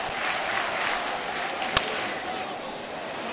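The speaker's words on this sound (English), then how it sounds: "The cheer you're hearing here in Pittsburgh." A crowd at a Pittsburgh Pirates wild card baseball game against the Giants roars in a steady, dense wash of cheering that holds throughout, with one sharp crack standing out briefly midway.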